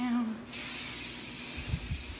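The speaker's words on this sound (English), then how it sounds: "Sanitize my room. I'm spraying my room down." Sanitizer sprayed around a room from a spray bottle, a steady loud hissing burst that starts after a short pause and continues throughout, with brief low thumps near the end.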